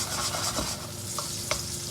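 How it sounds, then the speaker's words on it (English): Rendered fat and garlic sizzle in a pan over low heat while being stirred for carbonara, a close, soft crackling fry with a few light scraping strokes. "Keep stirring."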